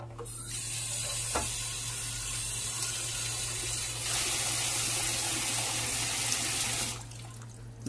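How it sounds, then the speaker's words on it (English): Tap water pours steadily into a pot of chickpeas, a continuous splashing rush that grows fuller partway through and then stops abruptly near the end. "And fill it with a lot of water."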